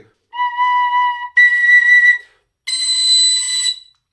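A tin whistle sounds three sustained overblown notes in the third register, reaching top B, each bright, piercing and close, separated by short gaps.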